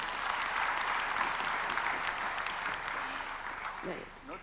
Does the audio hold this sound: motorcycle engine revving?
no